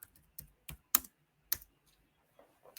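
Keystrokes on a computer keyboard tap out in a sparse, irregular sequence of close, crisp clicks, with a few softer taps near the end and no talking.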